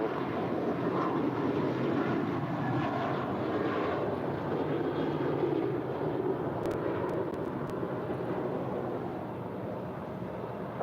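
An airliner takes off from runway 25 right at LAX, heard as a steady, broad jet engine roar with even loudness from start to end, heard at some distance.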